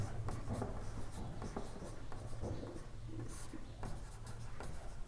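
Pen or marker scratches steadily on paper or a board while math problems are worked, close and continuous, with soft strokes and taps throughout and no talking.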